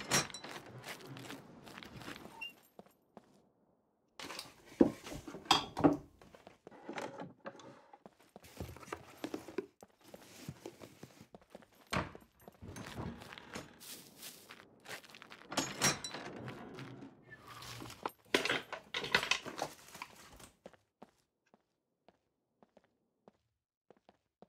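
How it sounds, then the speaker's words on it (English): Footsteps in the survival video game SCUM: a run of soft, irregular steps with occasional thunks, moderately near, alone without talk, stopping for a short gap and then ending in near silence for the last few seconds. "Sounds like puppet footsteps."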